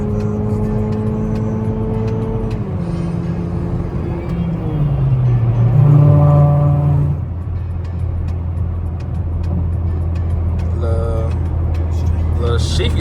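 A car cruising at speed on a highway late at night, a steady close road and engine drone with shifting engine tones and a brief swell, while someone talks over it.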